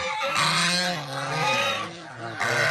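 Backyard turkeys on a farm call out loudly and close by in a run of drawn-out, honking cries that rise and fall, one call following another.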